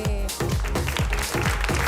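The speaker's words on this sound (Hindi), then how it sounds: "जोरदार तालियां हो जाए" Crowd applause at a textile fair prize giveaway, loud busy clapping close by, with a rhythmic thumping beat running underneath.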